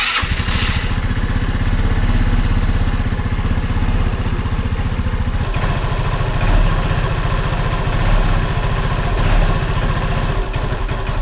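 A Rusi RFI 175 motorcycle engine runs loud and close just after a spark plug cap change, with a steady rough chugging that shifts to a harsher, faster pitch about halfway through. No voices are heard.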